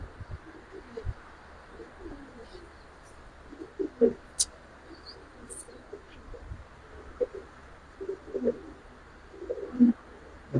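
Giribaz pigeons coo softly in a Bangladeshi pigeon collection, a scattered run of low, intermittent calls at close range over a quiet background.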